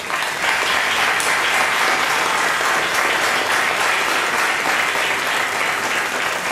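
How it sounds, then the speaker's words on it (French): An audience at a 2016 stage show in Lille applauds steadily to welcome Vincent Ferrara, the thick, continuous clapping holding at an even level throughout. "va pouvoir lui faire un maximum d'applaudissements et accueillir Vincent Ferrara"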